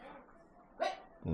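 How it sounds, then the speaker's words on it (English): A small dog gives a short, sharp yip close by in a Dominica garden valley, with a voice talking quietly before it. "A couple little dogs here."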